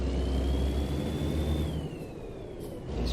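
A heavy truck engine in American Truck Simulator revs loudly and steadily with a rising whine, easing off briefly before climbing again, with no talk over it.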